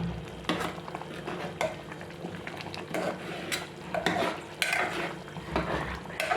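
Dal for masala pappu stirred in a cooking pot, repeated spoon scrapes and clinks over a low simmering sizzle, close and unhurried, no voices.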